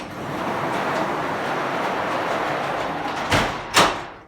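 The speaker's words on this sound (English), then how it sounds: "We're going to shut this door down" A large shop door rolls down with a long steady rumble, ending in two sharp bangs as it closes, loud and close.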